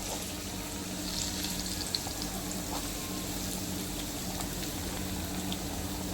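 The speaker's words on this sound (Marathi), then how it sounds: "तर आता आपण ह्या तळायला घेतलेल्या आहेत" Colocasia leaf rolls with prawns frying in oil give a steady, dense sizzle with fine crackling throughout, close and continuous, without voices.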